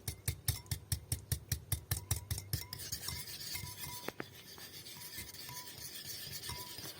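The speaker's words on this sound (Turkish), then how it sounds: "Salçalı sosum kaynarken yoğurdumu bir güzel çırpıyorum." Yogurt whisked briskly in a bowl to make the egg-free tempering for a yogurt barley soup with meatballs: quick, even scraping strokes for a few seconds, then softer stirring and clinks.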